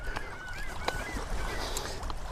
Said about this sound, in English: You can hear the seagulls, hopefully.